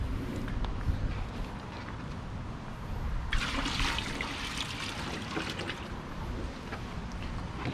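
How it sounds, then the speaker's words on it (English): Rinse water from cleaning seashells with muriatic acid is poured into a nearby bucket already full of water, a close, steady gush and splash running for several seconds over a background of trickling. "I'm gonna go ahead and dump this water out in this bucket that I have nearby that's full of water already."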